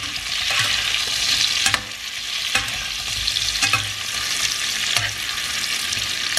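Capsicum stir-fried in oil for Singaporean noodles, a steady close sizzle with scraping stirs at intervals and no talk.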